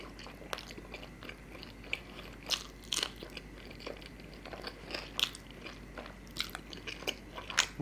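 Biting into Indian street food such as tandoori chicken, rumali roti and paratha, with close crunchy bites followed by wet chewing and small crackles, heard alone with no talk.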